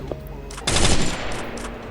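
Gunfire in the mobile battle-royale game Free Fire: a loud, dense burst of automatic fire that starts suddenly and rattles on for over a second, then trails into scattered lighter shots over low background game sound.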